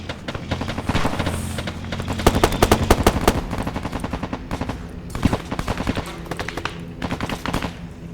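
Rapid machine gun bursts crackle through a video game airport battle, with dense repeated gunfire from several weapons layered over a constant background din, close and loud throughout.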